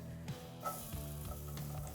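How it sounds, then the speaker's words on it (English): Steady frying sizzle of onions in butter in a hot pan over medium-high heat, with faint clatter of stirring, continuous and close throughout. "Get the butter a little sizzling a little bit like that."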